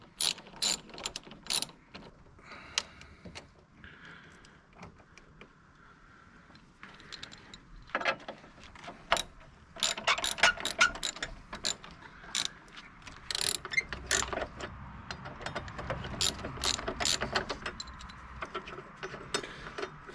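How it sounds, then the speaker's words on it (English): A ratchet with a 10mm socket loosens the negative battery terminal on a Nissan Pathfinder, clicking in rapid close bursts of varying length with pauses between them. "So you want to get your 10mm socket. And take off the negative end."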